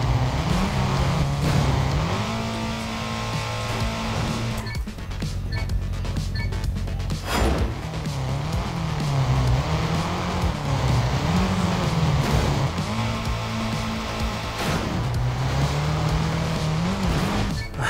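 A race car in the video game TrackMania 2 Valley drives continuously, its engine droning and rising and falling through gear changes, with tire squeals and skids along the way, loud and close throughout.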